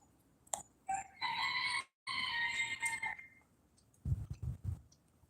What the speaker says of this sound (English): Oh, did you hear the chicken?